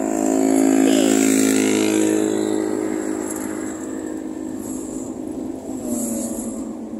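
A motorcycle engine runs steadily close by, a loud droning hum that slowly fades a little, with no talking.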